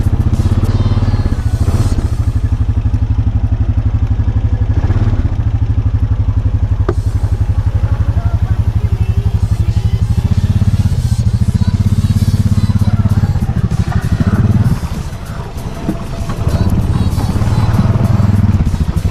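A new Honda Foreman ATV churns through deep, rutted mud, its engine loud and close with a heavy, steady drone that surges and dips briefly near the end. Mud clatters and thumps beneath it.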